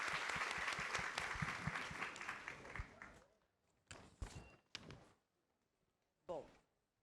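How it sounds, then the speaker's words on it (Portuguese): Audience at a book fair event applauds, a loud dense clapping that fades after a few seconds into scattered individual claps and trailing taps. "Palmas para eles."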